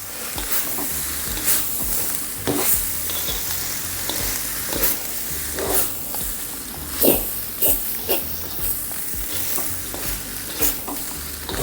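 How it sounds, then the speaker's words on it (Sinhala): A spoon stirs cooked rice through vegetables in a hot pan for nasi goreng, with scraping strokes and a continuous sizzle, and no voices. "දැන් තියෙන්නේ මේක හොඳින් කලවම් කරගන්න."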